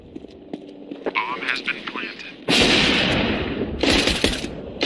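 Rapid bursts of video game gunfire crack loudly in two dense volleys, following a stretch of lighter clicks and a voice talking.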